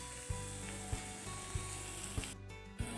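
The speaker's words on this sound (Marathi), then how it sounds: "हे तांदूळ आता आपण व्यवस्थित असे परतवून घेऊ।" Rice sautés with masala in a pan, giving a quiet, even sizzle punctuated by five regular taps and thumps of a spatula against the pan.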